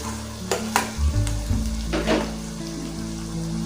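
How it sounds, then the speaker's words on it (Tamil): Onions sautéing in a pan give a close, steady sizzle, with several sharp scrapes and stirring clatters early on and a busier burst near the middle, no voices. "இப்போ வெங்காயம் பார்த்தீங்கன்னா இந்த அளவுக்கு வதங்கினா போதும்."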